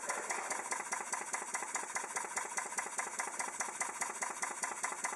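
A small vertical model steam engine runs at a few hundred RPM, giving a quick, even, close mechanical chuffing and clicking beat that holds a steady pace throughout.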